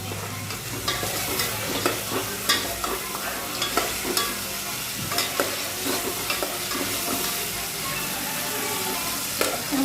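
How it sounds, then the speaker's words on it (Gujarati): Onions and chillies fry in oil in a pan, a dense, constant sizzle with frequent stirring scrapes and clicks in an uneven rhythm, close and fairly loud, with no talking. "પછી ડુંગળીને અને મરચાંને સરખી રીતના તેલમાં ગળવા દેવાનું"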